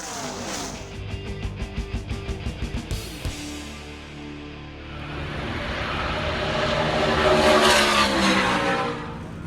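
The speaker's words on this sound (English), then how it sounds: "I was floored at the sound and speed of the cars as they were doing their qualifying runs" NASCAR race cars roar past during qualifying runs, a rapid pulsing burst early on, then a sustained high-pitched whine swelling and fading as cars speed by.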